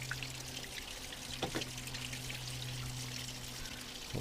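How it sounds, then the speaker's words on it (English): Water flushed through a car heater core pours out of a hose in a steady faint trickle, with a constant low hum underneath and a couple of brief splashy spikes. "Water coming out that bottom hose."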